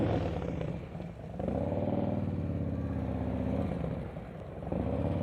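A motorcycle engine on a slow-speed practice course hums steadily nearby, its revs dipping briefly twice as the bike rolls through tight turns, then picking back up.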